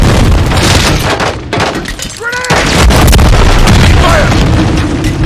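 A stun grenade detonates in a video game firefight, a loud burst with shattering crackle amid dense combat noise, followed by a brief lull and more rumbling action; voices call out over the din.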